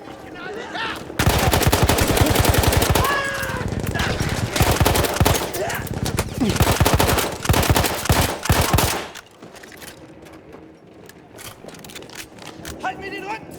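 Battlefield 1 gunfire, dense rapid bursts of rifle and machine-gun shots ringing out loud and near for about eight seconds, with shouting voices over the shooting, then dropping to quieter distant battle noise.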